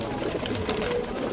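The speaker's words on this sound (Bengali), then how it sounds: "খুবই সুন্দর কবুতর।" A Pakistani highflyer pigeon coos softly at close range, low murmuring calls that run continuously at a modest level, with no voices over them.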